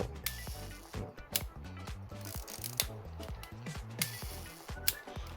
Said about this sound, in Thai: ขึ้นชัตเตอร์แล้ว